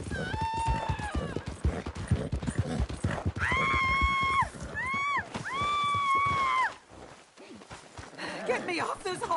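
Horse hooves clip-clop in the Red Dead Redemption 2 video game, with whinnying calls rising and falling in several drawn-out bursts over busy background noise, while people talk nearby.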